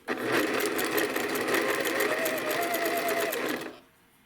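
A sewing machine stitching pieces of an AccuQuilt Winding Ways quilt block, a steady fast whirring run of stitches lasting a few seconds before stopping abruptly, close and alone.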